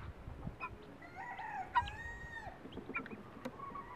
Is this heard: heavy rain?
no